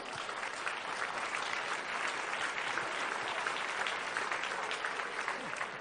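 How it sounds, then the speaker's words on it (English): An audience applauding a panel at a talk, sustained dense clapping at moderate volume, steady from start to finish. "Big round of applause."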